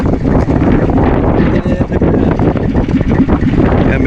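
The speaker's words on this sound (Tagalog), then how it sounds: "ang lakas ng hangin" Strong wind buffets the microphone out on the open sea aboard a small fishing boat, a loud, continuous roar with gusty rumble throughout.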